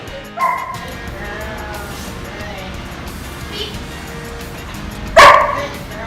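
A dog gives a short yip early on, then one loud, sharp bark near the end, with quiet whimpering and a human voice in between.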